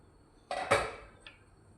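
A lid lifts off a pot of simmering coconut-based Goan fish curry: a clattering metal knock, then a ringing scrape, and a faint clink a moment later in an otherwise quiet kitchen.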